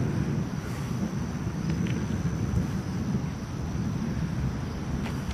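Thunder from a severe thunderstorm overhead near a lake, heard as a continuous low, heavy rumble that rolls on steadily throughout, mixed with wind noise on the microphone, with no talking.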